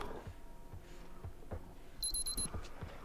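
A small beeping trap in the video game Metro Exodus gives a brief burst of rapid high electronic beeps over low rumbling ambience and thumping footsteps, faint but distinct.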